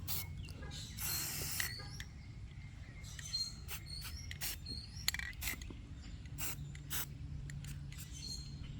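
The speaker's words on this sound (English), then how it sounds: "I'm trying to spray paint this and hold the camera." An aerosol spray paint can hisses in short, irregular bursts onto laundry cabinet handles, mixed with faint clicks and rattles of handling, fairly quiet and close.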